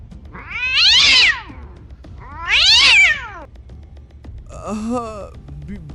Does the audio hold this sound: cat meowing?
yes